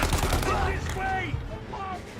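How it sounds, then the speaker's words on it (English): Gunfire and an exploding barrel in the crime video game Mafia, a dense burst of shots at the start followed by game noise, with a voice speaking over parts of it. "I just wanted to shoot the explosive barrel"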